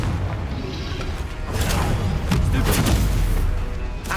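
A Confringo blast spell fired in the game Hogwarts Legacy, a heavy rumbling boom with crackling bursts that swells and sustains, loud and dense throughout.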